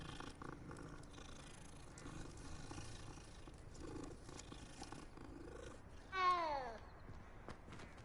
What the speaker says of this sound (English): that was the ugliest fucking meow I've ever heard